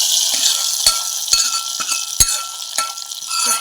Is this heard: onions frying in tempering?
yes